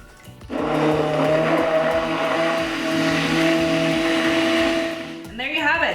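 A hand blender whirs loudly and steadily for about five seconds, mixing a thick vegan sauce thinned with lemon juice, then cuts off abruptly with a brief voice afterward.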